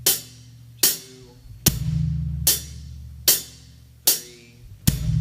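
Beginner drum set groove: seven crisp, evenly spaced hi-hat hits over about five seconds, with a soft bass drum thump on beat 2 under the cymbal pattern, played alone with no talking.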